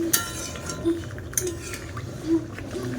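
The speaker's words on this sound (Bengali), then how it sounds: "আমি আলতোভাবে নাড়িয়ে নিচ্ছি মাছগুলা" Pabda fish in mustard-paste gravy gently stirred in a pan, with a light spoon scraping and occasional metallic clinks on the pan rim over a soft simmer, close and steady.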